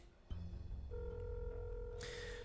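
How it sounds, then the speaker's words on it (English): A phone line in a story scene gives a steady electronic tone with a sustained pitch, then a sharper burst near the end, heard alone with no talk. "The busy tone rings out twice from the phone."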